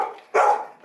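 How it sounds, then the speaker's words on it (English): A Labrador Retriever gives one loud, close bark, with a softer trailing whine before it and the start of another bark at the end. "obsessively barking, spinning Labrador Retriever"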